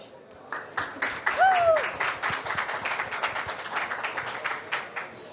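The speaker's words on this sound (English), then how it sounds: "Applause." Participants at a climate role-play discussion event clap together, a lively patter of distinct handclaps from a modest group, with a brief voice rising over it early on.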